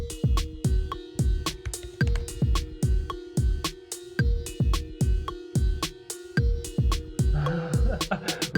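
A looping drum beat with thumping kicks, cracking snares and hi-hats ticking on every other eighth note, repeating steadily over a sustained tonal layer, loud and rhythmic.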